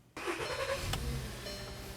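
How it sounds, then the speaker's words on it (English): A VW Passat engine cranks and catches abruptly, then settles into a steady idle, close and fairly loud with no talking. "So I'm going to start the engine."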